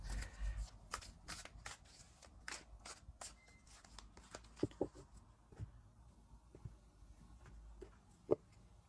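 A new tarot deck is shuffled by hand in a series of quick, crisp riffles and taps, close and fairly soft, with short pauses between bursts.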